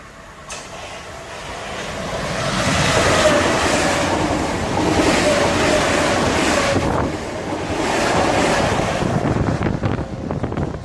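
Two coupled Southeastern Class 465 electric units run through Northfleet station without stopping on a Gillingham to London Charing Cross service. A loud rolling rumble with wheel and rail noise builds and holds close by, along with wind buffeting on the microphone.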